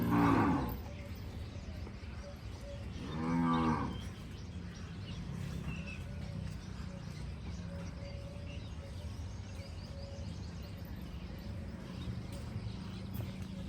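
A Kankrej cow on a farm in Banaskantha gives a couple of drawn-out moos, one right at the start and another a few seconds later, over a steady rural background.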